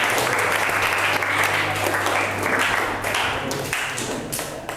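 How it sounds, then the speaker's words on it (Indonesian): Classroom applause for a student group, a steady wash of many hands clapping that stays loud for a few seconds before tapering slightly, with a low hum underneath. "Beri tepuk tangan untuk kelompok 2."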